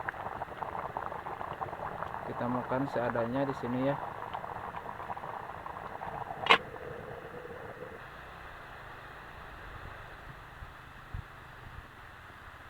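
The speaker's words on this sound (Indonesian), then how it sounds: "Ini masak air di kaleng buat nyeduh kopi nih ya teman-teman." Water boils in a can over a fire for coffee at a garden hut, a steady bubbling hiss running under a person talking nearby.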